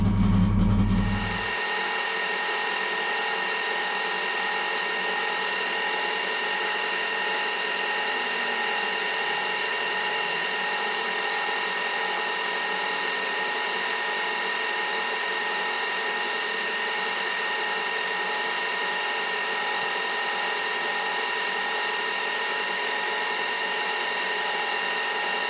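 A machine tool takes a recut across the front face of an adjustable angle plate, a steady high whine with ringing tones that runs alone and unbroken after a brief low thump at the start.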